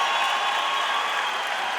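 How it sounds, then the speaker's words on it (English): A crowd at an Evecon RAJU fight between Oskar Herczyk and Raigo Kutsar roars and cheers in a steady, dense wash of voices and applause, loud and continuous throughout with no break. "gets a pop from the crowd"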